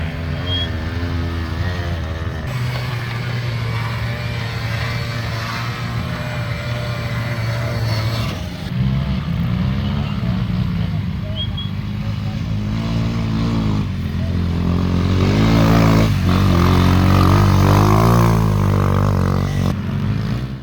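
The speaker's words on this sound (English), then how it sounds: "A two-stroke Minarelli copy 50cc scooter." A two-stroke 50cc scooter with a Minarelli-copy engine drones and revs on a muddy hill climb, loud and fairly close, pitch shifting as throttle rises and falls, with clattering and a stronger surge toward the end.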